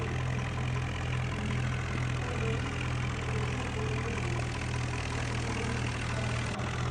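A Swaraj 963 tractor engine in a video game drones at a steady, even pitch while pulling a loaded trolley uphill, with a constant low hum and faint knocking and no voices.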